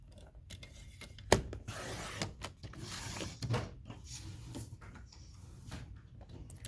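A paper trimmer slices 2-inch strips of card stock, giving quiet, close sliding scrapes with a sharp click and a few soft rubbing sounds.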